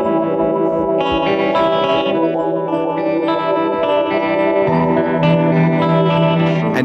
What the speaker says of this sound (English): the GR-55 can add its internal effects to your actual guitar sound